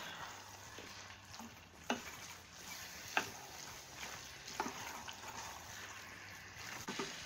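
Rice being stirred through sauce in a pan for Creole vegetarian dirty rice, a soft steady sizzle punctuated by several faint scraping strokes of the spoon at irregular intervals.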